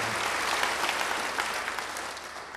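A church congregation gives a round of applause, many hands clapping in a thick, continuous patter at moderate loudness with no pauses.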